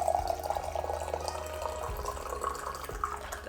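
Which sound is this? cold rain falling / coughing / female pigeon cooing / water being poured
water being poured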